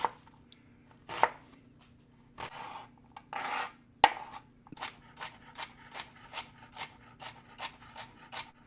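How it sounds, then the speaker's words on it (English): Onion, celery and carrot are finely chopped on a board, first a few scattered knife strokes and rubbing sounds, then a quick, even run of crisp chops close to the microphone, with no one talking. "I'm doing a fine chop on all of these vegetables."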